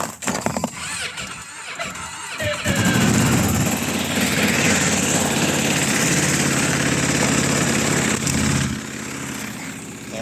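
A Ski-Doo four-stroke snowmobile in freezing backcountry cold-starts after some clicking and cranking, then catches into a loud, steady, rough idle that holds for several seconds before easing off.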